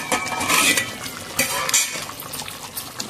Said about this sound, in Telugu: ఒకసారి మూత తెరిచి చూసుకుందామండి.